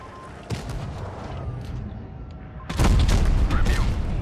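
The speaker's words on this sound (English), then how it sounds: "A shot from the MBO there, a bounce one." Tank cannon shot bouncing off armor in World of Tanks Blitz, a sudden loud heavy boom with a metallic clang and ringing tail over steady rumbling battle noise.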